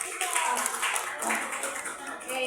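A crowd claps for the Virgin Mary at a Flores de Mayo celebration, with dense, continuous applause that carries on throughout.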